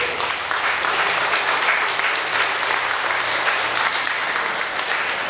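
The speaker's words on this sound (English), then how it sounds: "Give yourself an applause for even coming here." Steady, dense applause from an indoor audience fills the whole stretch, loud and continuous with no gaps or talk over it.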